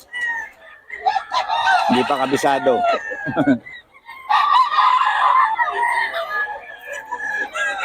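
Chickens cluck and a rooster crows nearby while someone talks over the farmyard noise.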